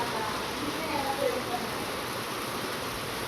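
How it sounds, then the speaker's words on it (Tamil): Steady rain falls in Tiruppur, a dense, even hiss that holds unchanged throughout without any voices. "இப்போ நம்ம ஊரில் மழை பெய்யுது, திருப்பூரில்"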